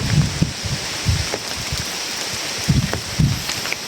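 Steady rain patters down in a broad wash of hiss over a small village canal during net fishing, with occasional heavier splashes and low thumps punctuating the downpour; no voices.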